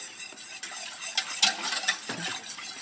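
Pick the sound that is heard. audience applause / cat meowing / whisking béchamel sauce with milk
whisking béchamel sauce with milk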